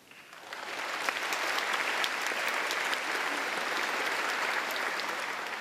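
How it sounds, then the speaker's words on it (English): An audience at the SWH 2018 graduation ceremony applauds, the clapping swelling quickly into a dense, sustained roar that carries on without letting up. "A round of applause if a teacher or coach has inspired you."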